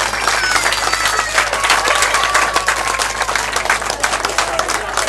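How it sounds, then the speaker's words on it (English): Wedding guests break into loud, dense applause for the bridesmaids, many hands clapping at once in a close, sustained roar for several seconds. "So if you could give them a round of applause"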